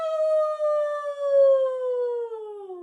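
A single person imitates a wolf howl with one long, clear, sustained voiced tone that slowly slides downward in pitch, heard close and fairly loud with no other sounds.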